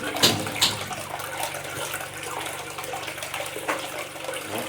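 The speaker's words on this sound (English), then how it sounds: "But let's see if this will flush." A toilet in a security house, just serviced by a plumber, flushes with a steady close rush and gurgle of water that keeps going for several seconds.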